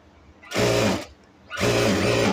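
A sewing machine runs in two short bursts of stitching on a salwar panel, each about half a second to a second long, separated by a brief pause, close and clear with no talk.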